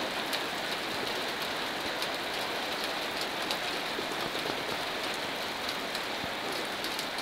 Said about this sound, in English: this is the first official shower of